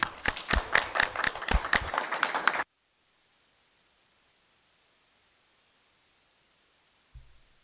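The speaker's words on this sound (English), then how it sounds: "Let's give them a big round of applause." Audience members at a Cabrillo Unified School District board meeting clap in a short burst of sharp individual claps, which cuts off abruptly into near-silence with faint hiss.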